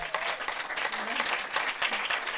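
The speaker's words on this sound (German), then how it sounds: "Großen Applaus." Audience applause, steady dense clapping from a crowd throughout.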